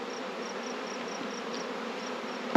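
Honey bees from freshly hived swarms hum in a dense, steady drone close by, with a faint recurring whine and a brief knock right at the end.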